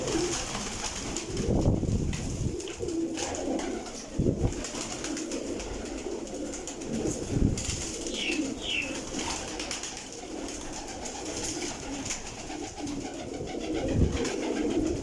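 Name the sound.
pigeons cooing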